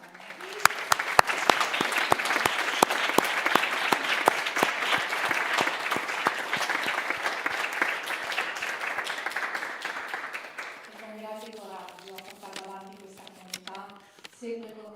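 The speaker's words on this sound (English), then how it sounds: "That applause was for Kirtani." Applause from an audience at a spiritual community gathering, many hands clapping steadily for about ten seconds before fading, after which a person begins speaking.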